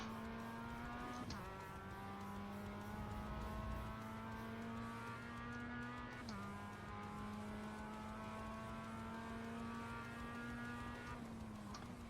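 Race car engine in the iRacing sim at Oulton Park, loud and steady as it holds high revs, with the pitch dropping briefly at a few gear changes before climbing again, and no voices.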